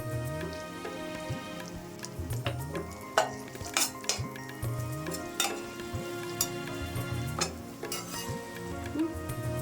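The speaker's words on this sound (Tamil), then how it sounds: "நான் கொஞ்சமாக இந்த எண்ணெயில் மஞ்சள்தூள் சேர்க்குறேன்." Turmeric powder sizzling in hot oil, a busy crackling fry with repeated sharp spatters and stirring scrapes, heard close and alone at moderate volume.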